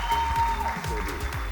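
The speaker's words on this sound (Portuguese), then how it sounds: "Uma salva de palmas para o Hub Brasil." Applause for a speaker from Hub Brasil at a collaborative intelligence talk event, a short burst of clapping under a steady tone and low music-like hum, with some voices mixed in.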